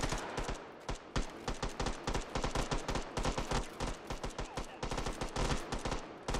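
Rapid gunfire rattles in the VR game Hot Dogs, Horseshoes & Hand Grenades, dense bursts of loud, close shots crackling in quick irregular succession throughout.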